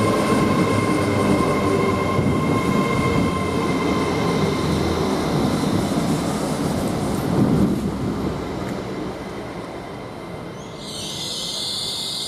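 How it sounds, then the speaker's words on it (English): A train at Coventry railway station rumbles steadily nearby with a sustained squeaky brake tone over the rolling noise, ending in a brief high squeal as it eases. "Squeaky brake tone."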